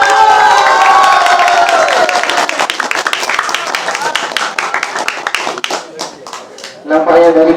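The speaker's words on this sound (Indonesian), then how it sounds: "Oke, beri tepuk tangannya." An audience at a Ramadan Quran quiz competition claps and cheers loudly in a dense burst that thins out into scattered claps, then a voice speaks over the hall near the end.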